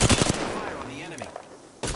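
Gunfire in a multiplayer shooter game, a few quick loud shots at the start and another burst at the end, with faint game sounds in between.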